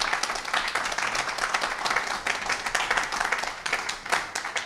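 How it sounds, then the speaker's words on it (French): A room full of trainees in a hotel in Conakry applauds two instructors, a dense, sustained wash of many hands clapping together at moderate loudness with no pauses. "je vous demande d'applaudir très fortement nos deux instructeurs"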